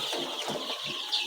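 Poultry farm chickens about 15 days old cluck and chirp in a dense, continuous flock murmur, close and moderately loud with no talking.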